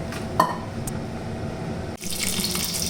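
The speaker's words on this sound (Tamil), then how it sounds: "கொஞ்சம் தண்ணி விட்டு அப்படியே அரைச்சிடலாம்" Water runs from a tap into a grinder jar holding chayote chutney, a short close splash with a brief clink at the start, then a brighter, steady stream of filling liquid for the last second.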